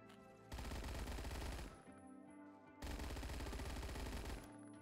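A PPSh-41 submachine gun fires in the Roblox game Phantom Forces, two long rapid bursts of automatic gunfire separated by a short pause, fairly quiet overall.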